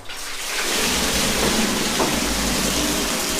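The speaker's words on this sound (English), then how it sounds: "That's the hot water just come out of this." Hot water, the liquor for brewing craft beer, pours steadily into the bottom of a brewing vessel, a loud continuous rushing splash that starts after a brief quiet moment and runs unbroken throughout.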